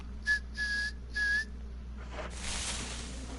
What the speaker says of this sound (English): so blow the dog whistle,